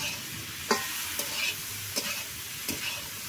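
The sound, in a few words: curry cooking in a pot on a wood fire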